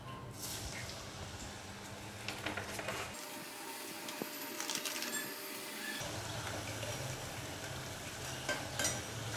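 Spinach murukku dough frying in hot oil in a kadai, a steady soft sizzle and bubbling that runs throughout with faint scraping, close and moderately quiet.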